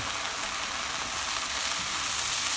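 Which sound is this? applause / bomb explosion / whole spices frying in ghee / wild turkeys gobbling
whole spices frying in ghee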